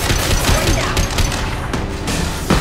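Overridden turret firing in the video game Mass Effect 2, a dense rapid burst of automatic gunfire with sharp repeated cracks throughout, loud and close.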